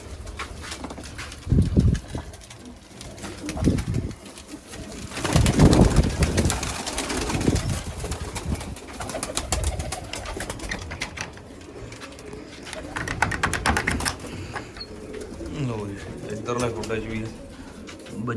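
Pigeons cooing in a pigeon loft with nesting boxes and young birds, steady close coos and throaty calls throughout with rustling and flapping, and voices occasionally present in the background.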